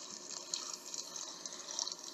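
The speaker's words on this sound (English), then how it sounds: "Spray water on his car." Water spraying onto a dirty police car in a kids' car wash video game, a faint, steady hiss with light splashy flicker, no voices.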